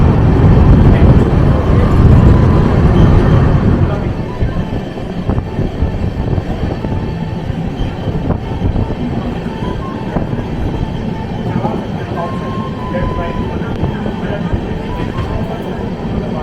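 A Vistadome luxury train pulls away from Palsit toward Bardhaman, a steady broadband rumble of wheels and carriage noise, loudest at first and settling into a continuous rolling drone.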